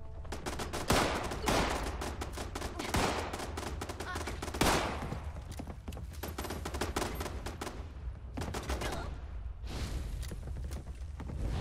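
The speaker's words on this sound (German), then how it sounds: "Mir gefällt nicht, dass sie auf irgendwas schießen." Heavy automatic gunfire in Fallout 76, loud bursts of rapid shots crackling in clusters with short gaps between volleys, fairly close and continuous through most of the stretch.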